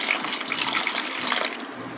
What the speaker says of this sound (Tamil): மீன் குழம்பு வைக்க தேவையான தண்ணி ஊற்றிக்கோங்க